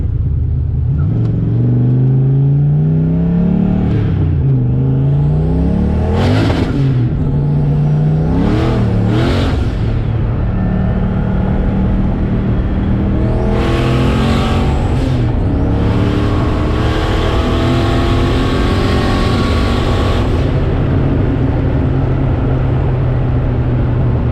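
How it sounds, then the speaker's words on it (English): Car with a new Tremec TKX manual transmission driven hard on a road: engine revs climb and fall repeatedly, with sharp sweeping pulls up to the rev limiter and loud sustained roaring near the mic, no talk. "That was my Rev limiter."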